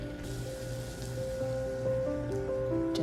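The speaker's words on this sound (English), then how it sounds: "Just giving you some of the bubble noise." 7-Up soda fizzing and bubbling after being poured out for scones, a steady soft crackle of bubbles with faint tonal hum in the background, continuous and close throughout.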